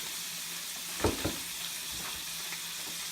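Scallops sear in a hot pan with a steady, dense sizzle. A couple of louder scraping stirs break in near the middle, and there is no talk.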